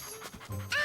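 A small cartoon dog pants and whimpers in short breathy bursts, close and fairly loud, ending in a rising squeaky yip.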